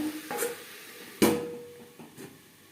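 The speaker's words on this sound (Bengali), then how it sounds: "পেঁয়াজের সাথে বেগুন বেশ ভালো করে মিক্সড করে দেবে" A spatula stirs eggplant and onions in a cooking pan, giving a few distinct knocks and scrapes against the pan with a low sizzle underneath, close up and fairly quiet.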